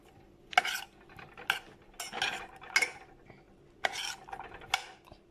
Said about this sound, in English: Add your piage, your onion, and stir them all together.